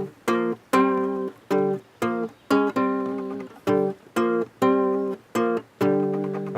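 A plucked string instrument played with a pick, a steady run of short, bright notes in a rhythmic pattern with brief gaps between, close and clear with no talking.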